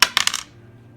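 A handful of dice rerolled across a tabletop in a Deadzone wargame, several quick clattering impacts within half a second, close and crisp, then quiet.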